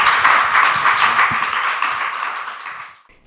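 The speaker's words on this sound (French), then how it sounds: "Je propose qu'on applaudisse nos deux conférenciers." Audience applause for two speakers at a recorded live podcast talk, a dense steady patter of many hands clapping close and loud, fading out toward the end.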